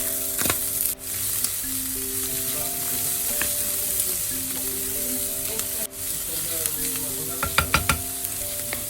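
Canned tuna with red onion and jalapeño being gently stirred in a hot pan, a steady sizzle with soft scraping strokes of the spoon and a few sharper clinks near the end, no talk.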